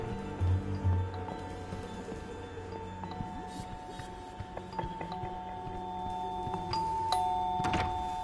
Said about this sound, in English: You gotta disable that doorbell, man.